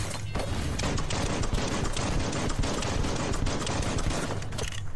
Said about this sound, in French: je sens qu'on me tire dans le dos